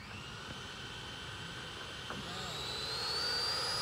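A Freewing 90mm F-22 model jet with a custom engine and afterburner flies at sunset, its turbine whine steady and somewhat distant, rising in pitch and loudness toward the end.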